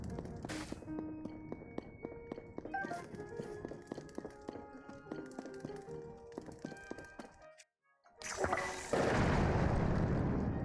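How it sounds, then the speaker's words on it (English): Bomb arrows exploding in Zelda: Tears of the Kingdom, a series of dull thuds and taps under game music, then a short silence followed by a loud, sustained booming blast near the end. "Multi-shot bows will fire extra bombs without using extra bombs"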